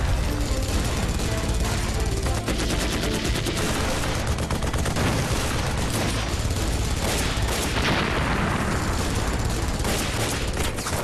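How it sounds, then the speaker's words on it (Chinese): Intense, sustained gunfire with dense bursts of machine-gun fire and rifle shots rolls loud and unbroken from a fort hill in a wartime film battle, with no talk over it. "炮台山传来激烈枪声。"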